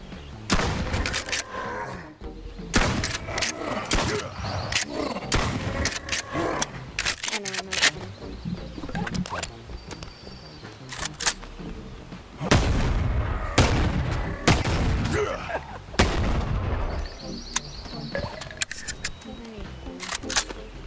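Shotgun blasts from movie action scenes, a series of loud, sharp booms scattered irregularly across the stretch, mixed with shouted dialogue, music and other effects.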